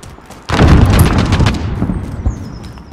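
Sentry gun fire in Call of Duty Modern Warfare: a loud, dense burst erupts about half a second in, holds for roughly a second, then tails off into a rumbling, fading rattle.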